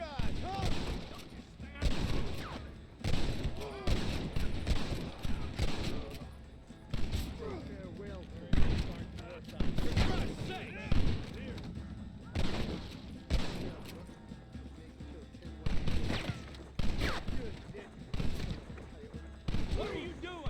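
Heavy gunfire in Red Dead Redemption, repeated loud bursts of shots and booming reports in uneven clusters, with voices shouting between volleys.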